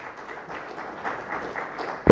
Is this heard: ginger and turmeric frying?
no